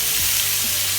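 Shrimp sizzling steadily in a hot pan with chicken and browned garlic, a continuous close frying hiss with faint stirring, no talk.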